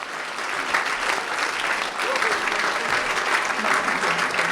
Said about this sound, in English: Please give everybody a big hand of applause.